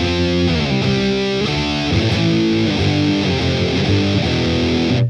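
Heavily distorted high-gain electric guitar played through a Mesa vintage rectifier model on a Boss Katana MK2 set to the modern cabinet, loud chugging riffs and sustained chords filling the whole stretch with no talking.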